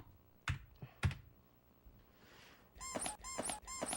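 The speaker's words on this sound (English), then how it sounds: "Again with the squeaky shoes." Shoes squeak sharply on a hard floor, a couple of dull thumps followed by three quick high-pitched squeals in a row.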